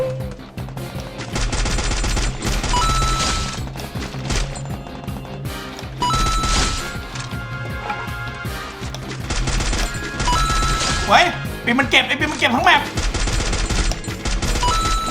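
Rapid gunfire bursts from a shooting video game crackle densely throughout, with sharp crashes near the end, while someone talks excitedly over the top.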